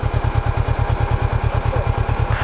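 A motorcycle engine idles on a Himalayan road, loud and close, with a fast, even low putter of regular pulses throughout and no talking.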